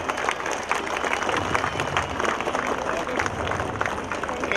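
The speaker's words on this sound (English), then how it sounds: "Big round of applause." Crowd applause from students at a ribbon-cutting during a school talent show, dense continuous clapping mixed with chatter and cheering voices.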